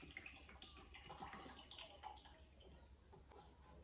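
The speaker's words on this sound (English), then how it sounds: "Then I can pour milk here" Pumped breast milk poured from a pump part into a baby bottle: a faint, steady liquid trickle with small splashes and drips over several seconds, quiet and close, with no talk.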